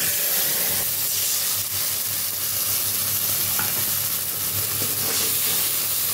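Whole cumin, nigella seeds, ginger, green chili and cumin paste hit hot oil, giving a loud, steady frying sizzle with a dense hiss that runs without a break and carries stirring scrapes.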